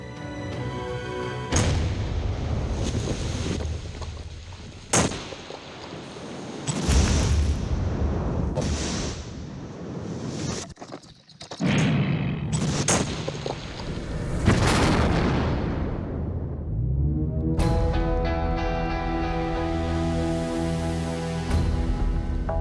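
An explosive charge blows up an illegal gold mine trench in French Guiana, booming blasts and crashing bursts recurring loudly across the stretch, with rumbling debris between them and a steadier layered tail at the end.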